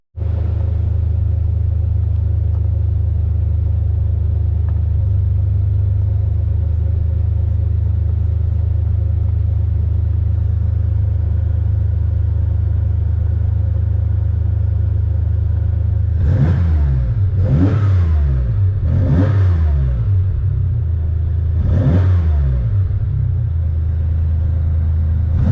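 An air-cooled Porsche 911 engine fitted with individual throttle bodies and MegaSquirt tuning idles with a deep steady rumble, then revs sharply four times in quick succession, each blip rising and falling; nearby and loud, with no talking.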